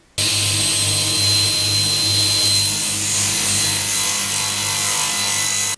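Power saw cutting through an oak board for a large alcove shelf, a loud steady motor whine with continuous cutting noise running for several seconds without pause.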